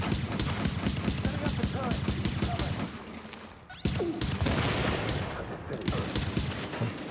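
Rapid, continuous gunfire from an MDR rifle firing AR ammo in The Division, loud and close with a dense stream of shots, a short lull midway, then more sustained bursts.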